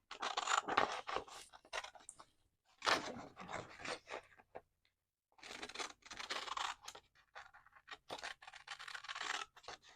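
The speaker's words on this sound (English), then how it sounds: "This time I'm just going to cut straight up here." Scissors snip through paper being cut into envelope pockets, close and crisp, in short bursts of rapid cuts separated by brief pauses.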